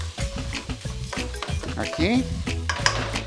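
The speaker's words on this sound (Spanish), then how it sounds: "vamos a mezclar esto" A spoon stirs seasoned rice and fish in a pot, making repeated scraping and clinking strokes at a quick, uneven rhythm, close by and moderately quiet, while a person speaks briefly.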